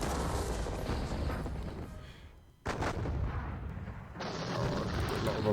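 Booming artillery and crackling musket fire from a Napoleonic war video game set at the Battle of Auerstedt, a dense rumbling barrage with a sharp burst midway, fairly quiet overall.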